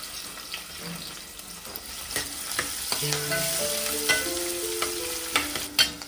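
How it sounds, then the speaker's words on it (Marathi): Cinnamon, bay leaf, garlic and onion fry in hot oil, giving a continuous sizzle with spatula scrapes and stirring clatter close by, plus a few brief tonal sounds in the middle. "तेल तापले, दालचिनी आणि तेजपत्ता टाकून घेऊ, लसूण आणि हा कांदा."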